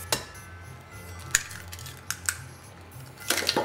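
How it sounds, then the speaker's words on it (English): Eggs cracked into a well in flour for a ginger cake batter, a few sharp clicks and taps against a bowl over quiet kitchen room tone. "I'm going to make a little well in the middle of the flour and I'm going to crack in 2 eggs"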